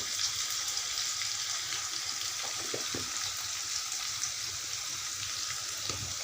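Spice paste frying in oil as turmeric powder is stirred in: a steady close sizzle with a few soft spoon scrapes and clinks scattered through.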